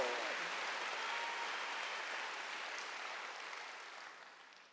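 A church congregation at a Wednesday worship service applauds, a dense, even wash of clapping that holds steady and then gradually fades at the end.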